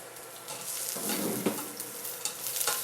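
Garlic sautéing in about a tablespoon of hot oil, a dense continuous sizzle with a few stirring knocks, close and loud, without speech.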